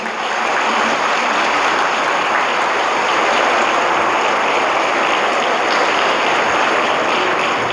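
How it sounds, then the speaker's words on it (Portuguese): A church congregation at a Sunday Mass applauds two married couples celebrating 43 and 45 years of marriage, steady dense clapping filling the whole stretch with no pauses, close and loud. "Uma salva de palmas para eles"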